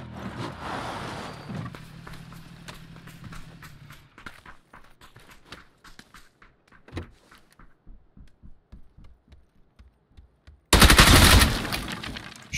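Video game gunfire pops in spaced single shots, then a final loud close burst erupts near the end, with footstep-like clicks and faint background sounds in between.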